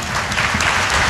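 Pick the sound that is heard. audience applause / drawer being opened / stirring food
audience applause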